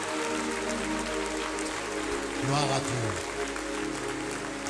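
A church congregation claps steadily through a worship service. The continuous applause runs under a speaker's voice and a sustained musical tone.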